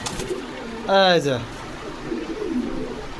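Pigeons at a pigeon seller's coop in Bogura give a single clear throaty coo near the start, with fainter bird sounds around it and a person speaking briefly.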